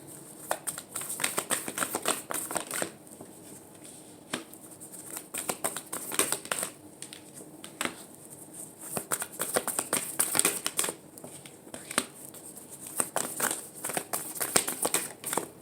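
Tarot cards being shuffled and dealt into a five-card spread, a soft, close, irregular run of riffles, slaps and papery flicks.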